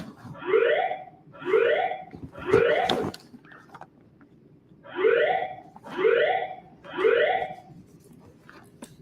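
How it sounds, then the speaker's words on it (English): A building fire alarm sounds in repeated strident tones, three pulses, a pause, then three more, steady and moderately loud indoors. "There has been a fire alarm reported in the building."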